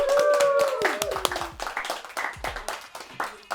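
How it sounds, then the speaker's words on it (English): A small crowd claps and cheers, with scattered hand claps and voices rising together over a few seconds. "Round of applause for Geeta!"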